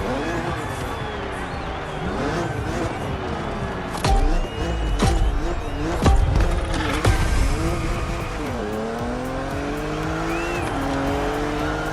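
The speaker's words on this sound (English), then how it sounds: "It's wonderful to see this car taking over the roads of Maui." A BMW Z4 races through Maui roads in The Crew Motorfest, its engine loud and close, revving and shifting pitch, with tyres squealing briefly partway through.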